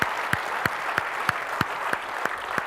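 Applause from a conference session audience, steady close clapping with regular louder individual claps cutting through the crowd wash, no voices over it.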